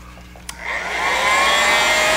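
An electric heat gun heat-setting fresh airbrushed paint on a fishing lure switches on with a click, then its fan whooshes up into a steady, loud blowing hiss.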